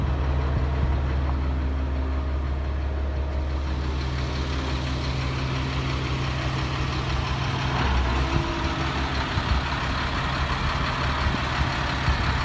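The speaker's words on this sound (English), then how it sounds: "Engine sounds great." A 2001 Freightliner FL80 boom truck's engine idles steadily at a low, even rumble, running close by without pause or change in pace.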